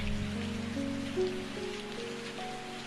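Light drizzle falls on a grassy meadow, a steady, soft, even patter that runs throughout beneath sustained, music-like tones.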